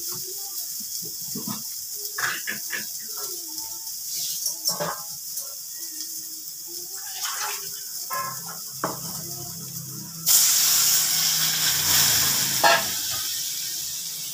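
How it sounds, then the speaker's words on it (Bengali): Broth goes into a pan of spiced fried eggplant for a fish curry. A sudden loud, steady sizzling hiss bursts in and holds, after quieter stirring and clinking in the pan. "বেগুনের সাথে মশলাটা কষানো হয়ে গেছে, এবার আমি ঝোল দিয়ে দিচ্ছি।"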